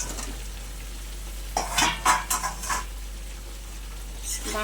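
Cleaned, chopped vegetable stems drop into spiced potatoes in hot oil and sizzle, with a quick burst of stirring and spatula scrapes against the pan partway through, then a quieter fry.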